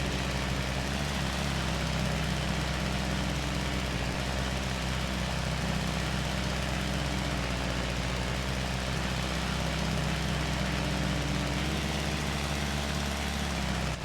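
Aircraft engine in a GTA game, a loud steady drone with a low hum and a broadband roar, holding constant as it idles.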